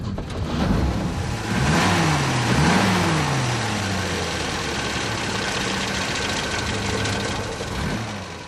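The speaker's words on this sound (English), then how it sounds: "Under the hood, it had a 4-cylinder gasoline engine with a side camshaft." A 1,500 cc four-cylinder side-camshaft gasoline engine in a Peugeot 403 convertible runs near and steady, rising briefly in a couple of revs before settling back to an even idle.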